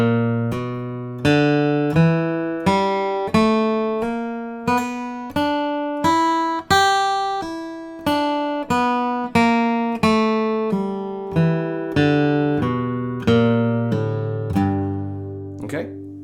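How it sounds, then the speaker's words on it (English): Flatpicked acoustic guitar plays a steady single-note exercise that mixes picked notes with hammer-ons and pull-offs, each note ringing clearly in an even rhythm, close and alone without talk. "Now I want to do a combination of picked notes and hammer-ons and pull-offs"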